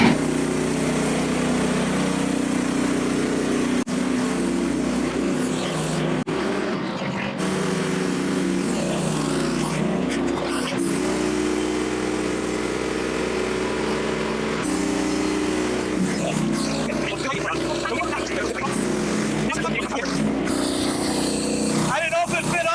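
A Frontier sawmill cutting a black oak log into trailer deck boards gives a loud, continuous engine-driven drone whose pitch shifts as the blade works through the wood.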